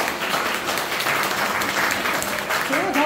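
An audience claps steadily and densely at a music appreciation concert held in a restaurant, the applause filling the room at close range for the whole stretch without a break.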